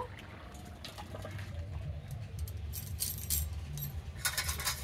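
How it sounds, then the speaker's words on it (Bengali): Thick vegetable curry of potato, onion and tomato tipped from a pot into a wide basin, giving soft wet pouring and dribbling with a few light clinks of metal, close and fairly quiet over low background hum. "তরকারি আমার কমপ্লিট হয়ে গেছে, এবার নামিয়ে দেবো। এই গামলাতে ঢেলে নেব।"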